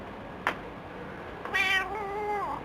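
A cat meows alone in a quiet room: one short sharp chirp, a pause, then a longer drawn-out meow that trails off, close and fairly soft.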